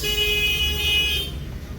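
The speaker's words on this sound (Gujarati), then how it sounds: "અમે હાલ ટ્રાફિકમાં જ છીએ" Mumbai road traffic heard from inside a taxi: a close engine rumble under a sustained car horn tone that cuts off partway through, leaving a muffled cabin hum.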